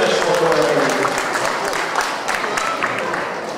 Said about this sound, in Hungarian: Még egyszer egy nagy-nagy tapsal közönségünket